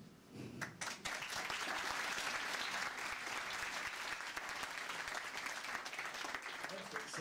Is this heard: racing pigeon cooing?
no